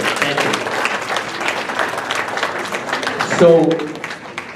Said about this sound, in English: I want everybody to give yourselves a big round of applause